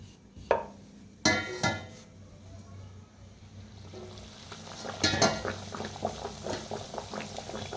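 Banana puris fry in medium-hot oil, a busy bubbling crackle with a few sharper knocks and splashes near the start and midway, fairly close, with no voices.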